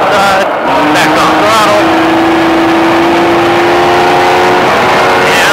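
A Baja off-road vehicle driven at SpeedVegas with throttle held through a turn: loud, close engine drone with a sustained tone that climbs slightly in pitch over a wash of wind and road noise.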